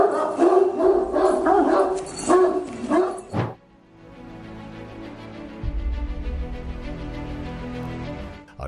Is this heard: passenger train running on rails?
no